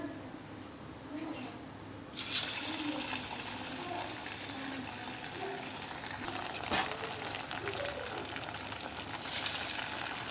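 Masal vada patties sizzling as they drop into hot oil, a steady crackling fry rising sharply in bursts near the start and again toward the end.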